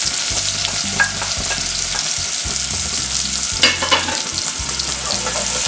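Onion frying in a pan with roasted curry powder, stirred with steady scraping strokes over a continuous loud sizzle, close up, no voices.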